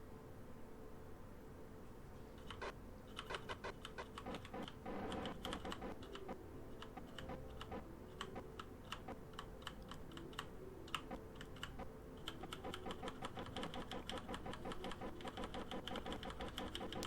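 Computer keyboard and mouse clicks tap rapidly and unevenly in clustered bursts, close and fairly soft, over a steady low background hum.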